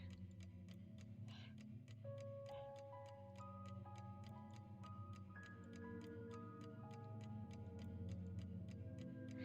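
Inside the Heart no Kuni no Alice game, a clock hand ticks in a steady, regular rhythm for several seconds, quiet and crisp over a soft, gently shifting musical drone.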